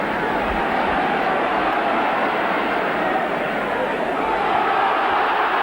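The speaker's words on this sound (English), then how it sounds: "The crowd roar for it." A rugby league cup crowd at Castleford v Widnes roars in a broad, steady wall of noise that holds loud and unbroken throughout.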